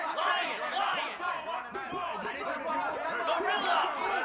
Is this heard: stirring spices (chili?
no